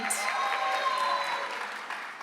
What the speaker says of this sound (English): Please give them a hand of applause.